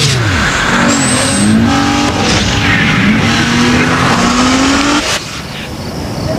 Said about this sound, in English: The 265 horsepower Nissan Maxima.